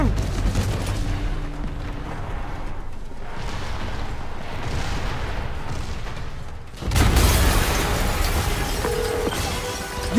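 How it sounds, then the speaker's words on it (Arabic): Explosions in Spider-Man Remastered rumble in a dense, sustained roar of blasts and debris, then a sudden louder burst partway through continues the heavy booming. "في انفجار لسه"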